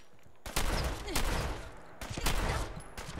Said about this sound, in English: Ah, we're just gonna shotgun him.